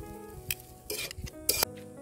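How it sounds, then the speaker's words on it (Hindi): Hakka noodles being stirred and tossed in a hot kadhai with salt, giving scraping and clinking bursts of metal on metal over a soft sizzle, close and fairly quiet, with no talking. "अब फिर से हम इसको मिक्स कर देते हैं अच्छे"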